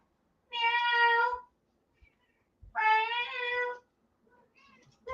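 A house cat meows twice near the door, two long, clear, close meows about two seconds apart, with a faint shorter mew trailing at the end.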